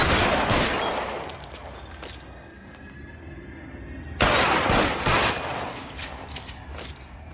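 Gunfire in the detective video game L.A. Noire: loud bursts of rapid shots with mechanical clatter, a quieter lull, then another sharp volley followed by scattered cracks.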